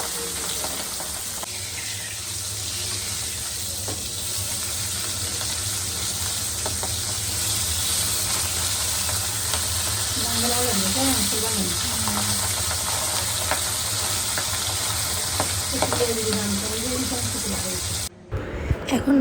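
Pabda fish fry in oil in a wok, a steady broadband sizzle running throughout at moderate level, with occasional clinks and brief voices murmuring faintly in the background.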